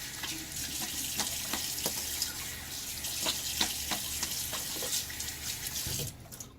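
Water runs steadily from a bathroom tap for several seconds while a shaver rinses during a wet shave with a Gillette Ranger Tech razor and lavender soap, with intermittent splashes and drips close by before the flow cuts off near the end.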